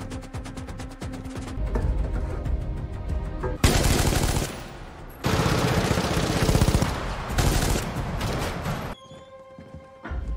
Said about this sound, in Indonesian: terjadi baku tembak yang tak terhindarkan